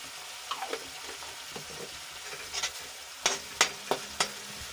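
Chili with lemon juice and salt fries in a pan under a constant sizzle, with sharp, repeated scrapes of a spoon stirring it that grow louder and more frequent toward the end.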